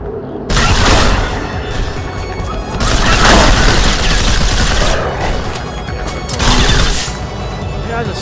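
Sustained bullet-spraying gunfire in the shooter game Strafe, with long, loud, dense bursts of shots and booming impacts, sometimes easing briefly before swelling again, with a voice talking underneath.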